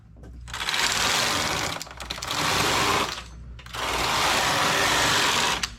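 Domestic knitting machine working a slipper in two strands of industrial yarn, the carriage racing across in three long, loud bursts of dense clattering rattle with brief pauses between passes.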